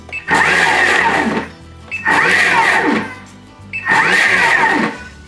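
A Thermomix food processor on turbo whirs loudly at high speed in three long bursts, each a couple of seconds, with short pauses between them.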